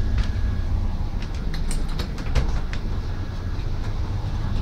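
A train rumbles past close by, a low steady roar with scattered clacks and rattles over the whole stretch.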